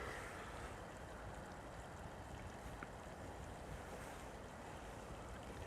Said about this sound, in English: I'm hearing a constant trickle of water.